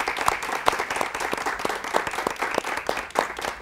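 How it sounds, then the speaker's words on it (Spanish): An audience applauds a guest clinical psychologist at a youth gathering with the cardinal: a steady, moderately loud patter of many hands with sharper individual claps standing out, holding fairly even throughout. "Un fuerte aplauso para ella."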